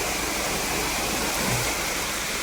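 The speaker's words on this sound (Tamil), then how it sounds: "இந்த கனமழைக்கு இப்போவே எல்லா வாட்டர் ஃபால்லையும் தண்ணிலாம் வர ஆரம்பிச்சிருச்சு" Waterfalls running full during heavy rain in forested hills, a loud, dense, continuous roar of rushing water with no voices, steady from start to finish.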